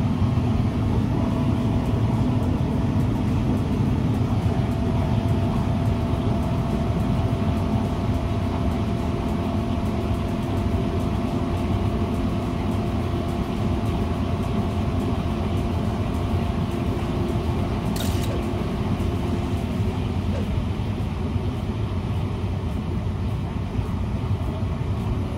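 A homebuilt Ford GT40 replica race car prepared by Michelin engineering runs fast on a circuit, a steady loud engine and road roar held throughout from inside the car, with no talking.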